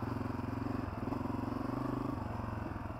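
Honda CRF250f dirt bike engine puttering along in third gear on narrow, tight single track, a faint, even low throb with a slight lift in revs midway.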